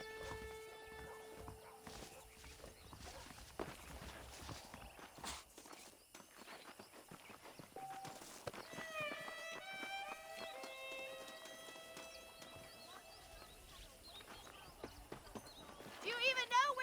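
Horse hooves clip-clopping at a walk during riding in the Western video game Red Dead Redemption, a steady rhythmic patter under ongoing conversation and background music, fairly quiet.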